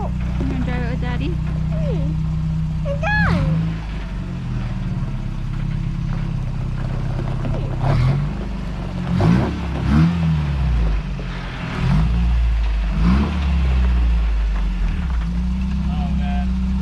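A 1986 Toyota pickup with a three-link suspension, dual transfer cases and 37-inch tires idles with a steady low rumble and a few short revs, close by and under conversation.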